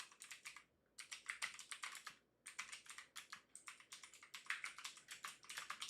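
Rapid clattering keystrokes on a computer keyboard come in quick bursts, with two brief pauses, close and fairly quiet, and no one speaking.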